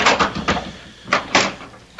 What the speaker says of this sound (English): Would you open the door, please?